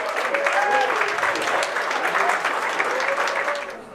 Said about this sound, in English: Please give a big round of applause for Rob.